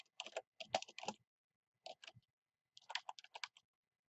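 Typing on a computer keyboard in a quiet room, short bursts of crisp key clicks separated by pauses, close and fairly soft.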